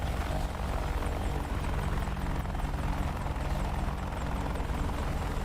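AH-64D Apache Longbow helicopter taxiing on the ground in the DCS flight simulator, a steady loud rotor thump and turbine whine droning continuously throughout with no pauses.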